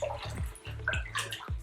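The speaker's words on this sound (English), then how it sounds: "We're going to mix the shampoo to get it bubbling." Water swishes and sloshes in a tub in repeated strokes as shampoo is mixed in to make it bubble, with gurgling, dripping splashes close by.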